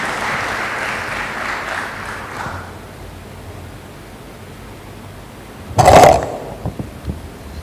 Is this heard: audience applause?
yes